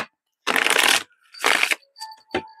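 Tarot cards are shuffled close by in three quick riffling bursts, each followed by a brief pause, with a few light taps and clicks at the end.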